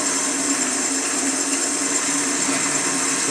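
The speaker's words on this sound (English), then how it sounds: "I'm just going to make that spindle a bit narrower here." A wood lathe turns the spindle of a battling spinning top, giving a steady, loud, unbroken whirring and cutting noise close by, with no voices.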